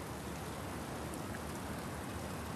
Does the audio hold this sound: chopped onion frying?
no